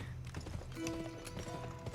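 Horse hooves clip-clopping in the 2005 Western video game GUN, a steady run of soft rhythmic hoofbeats over a continuous background bed, with a brief tonal hum mid-way.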